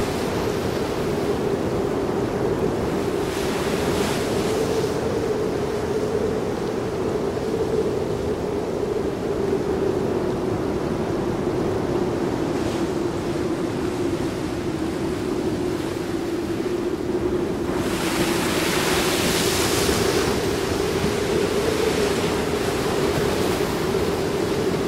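Winter storm waves and strong wind on the wild west coast of Crimea: a continuous loud roar of surf and gusting wind, with surges of crashing spray swelling in near the start and again later.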